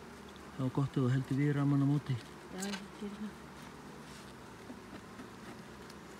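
Honeybees buzz around a beehive as frames are handled with the cutting end of a hive tool, a steady insect hum under two people talking nearby.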